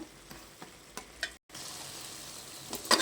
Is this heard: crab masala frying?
yes